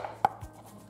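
A knife slices a catfish into rounds, with one sharp close knock followed by a couple of softer cutting thuds, quiet and without voices.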